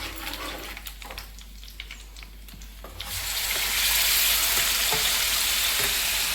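Tomato chutney dropped into a hot curry-leaf tempering, for a tomato roti pachadi made with new tamarind, breaks into a loud, steady sizzle halfway through after quieter kitchen clatter.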